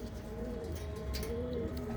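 Pigeons coo steadily in a loft in Ludhiana, soft overlapping throaty coos forming a continuous low murmur throughout.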